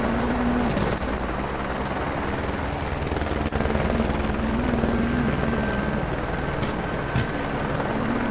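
A helicopter in the WRC rally video game, at Rally Mexico, gives a steady loud rotor drone with a rhythmic beating throw, constant and alone with no talk.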